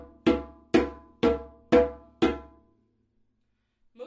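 Five open tones struck on a djembe hand drum, evenly spaced, sharp and resonant, each ringing briefly before decaying, followed by silence.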